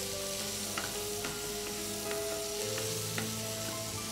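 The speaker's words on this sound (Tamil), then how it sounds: "நம்ம தக்காளி வெங்காயம் வதங்கும் போது இதில் வந்து நம்ம கேப்சிகம் ஆட் பண்ணிடலாம்" Chopped capsicum sautés in a pan with tomato and onion for paneer jalfrezi, giving a close, steady, dense sizzle with a few light clicks from the spoon over about four seconds.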